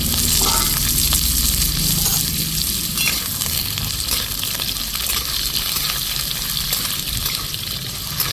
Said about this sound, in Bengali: দুটো শুকনো লঙ্কাকে একটু ফাটিয়ে নিয়েছি আর এর মধ্যে দিয়ে দিব আমি কেটে রাখা আলু আলুটাকে একটু লাল লাল করে ভেজে নেব